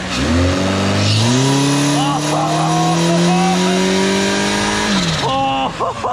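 A car engine fitted with electric turbos roars loudly on a dyno, its pitch climbing steadily through a long, sustained rev before dropping off and blipping again near the end.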